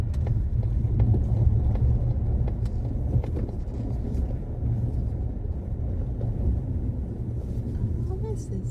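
A car drives slowly along a road and turns into a parking lot, its engine and tyre noise making a steady low rumble throughout, with wind buffeting the microphone.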